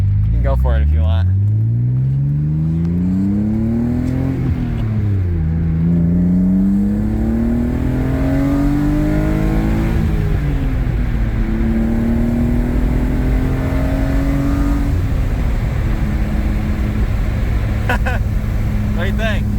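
A 260,000-mile BMW M3 works up and down through its gears on tight Kentucky back roads, the engine rising and falling in repeated revving sweeps with a loud, steady cabin rumble while people talk.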